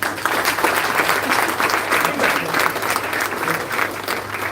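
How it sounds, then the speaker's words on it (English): Audience at an international technology conference giving sustained applause, a dense, steady wash of many hands clapping that is fairly loud and carries on alone without talking. "A big applause to everyone."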